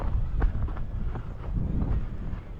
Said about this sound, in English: big gust of air right there